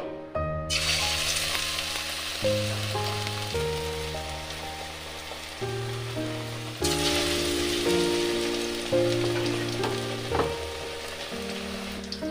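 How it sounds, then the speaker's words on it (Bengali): Bok flower fritters deep frying in hot oil on a winter evening, a dense, continuous crackling sizzle with a fresh loud burst as more batter goes in, steady and close over a low tonal background. "এরকম করে করেই আমি এগুলোকে সব ভেজে নেব।"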